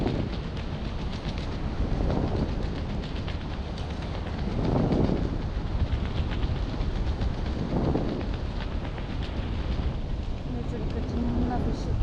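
Strong wind batters the microphone while parasailing high above the sea at Ocean City, a roaring buffet that swells in several gusts. A voice speaks faintly under it.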